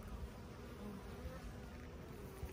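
Honeybees buzz at a small colony in an apiary hive during a honey flow, a dense, continuous hum heard close up without any talking.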